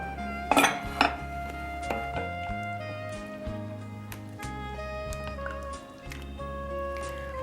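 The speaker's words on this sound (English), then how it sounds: "Now we will fill the other baking dish with the meat and the" A meat and sauce mixture for shepherd's pie is spooned into a baking dish, giving clinks and scrapes of a utensil on the dish, two sharp knocks near the start, then steady softer clatter with a low hum underneath.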